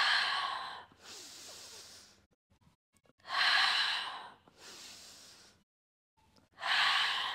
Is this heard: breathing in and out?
yes